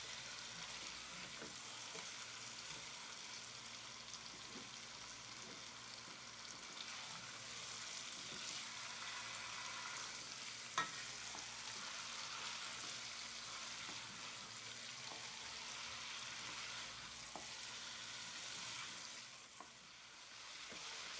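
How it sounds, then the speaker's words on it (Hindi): Chicken pieces frying in a pan while cooking pulao, a soft continuous sizzle and crackle with occasional stirring clicks, steady and fairly quiet throughout. "और चिकन को भी हम तकरीबन 5 से 6 मिनट तक अच्छी तरह से फ्राई करेंगे।"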